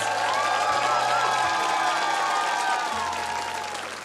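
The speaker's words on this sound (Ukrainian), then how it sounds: "Ну і ці безкінечні оплески." Sustained applause from a large crowd, dense and steady throughout, with some cheering mixed in, fading slightly toward the end.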